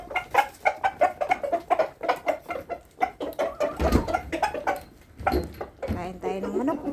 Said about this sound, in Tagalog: Oh, ayan yung mga manok ko.